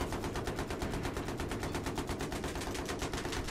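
Sustained automatic gunfire from a Battlefield 3 match, rapid evenly spaced shots rattling continuously for the whole stretch at steady loudness, with no voices over it.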